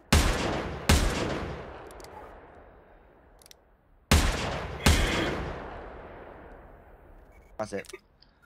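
Four loud rifle shots crack in two pairs in the hunting game theHunter, each with a long echoing tail, followed by a few faint clicks.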